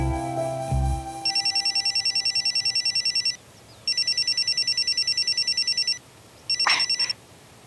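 A telephone rings in repeated electronic trilling bursts, three bursts separated by short gaps, loud and close, after some brief low sounds at the start.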